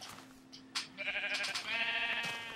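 A sheep in Minecraft, Xbox 360 edition, bleats in a short wavering burst, close and clear, with a brief click beforehand.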